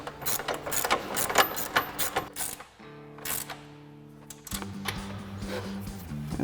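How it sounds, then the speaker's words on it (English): A 13 mm ratchet wrench tightens the bolts on a 2019-2024 RAM 2500 fog light install. Its pawl clicks in quick bursts, up close and fairly loud, with short pauses between strokes and no talking. "we'll grab our 13 mil ratchet wrench for these"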